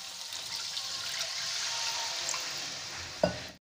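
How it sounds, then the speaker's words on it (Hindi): Frying masala sizzling steadily in a pan for a raw banana curry as water is poured in, a soft hissing fry followed by a brief splash and a sharp cut near the end. "इसमें हम पानी ऐड करेंगे।"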